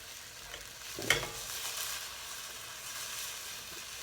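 Vegetables for a hash frying in a pan as the heat is turned up, a continuous crackling sizzle with a brief burst of stirring up close, with no talking.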